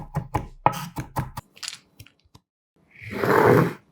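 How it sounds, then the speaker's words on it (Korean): A knife chops two whole garlic cloves coarsely on a board with a quick series of sharp, close taps, followed by a louder burst of rustling or scraping as they are gathered into a wok. "빠질 수 없는 통마늘 2개는 살짝 굵게 다져 궁중팬에 담고"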